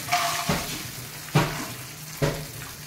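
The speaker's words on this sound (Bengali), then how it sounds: "বাদামগুলো ভেজে নেব" A steady oily sizzle of nuts frying with three sharp stirring scrapes spaced about a second apart, close by.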